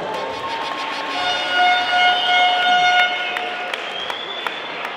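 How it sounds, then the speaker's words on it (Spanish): Crowd applause at a night event in the Bronx, New York City, for a Copa Libertadores final, with broad continuous clapping joined by a sustained siren-like horn tone, loud and steady throughout. "Un fuerte aplauso para él, por favor"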